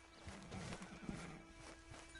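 Horse hooves clopping in the Red Dead Online video game, a few soft, irregular steps heard close by over a low ambient background without speech.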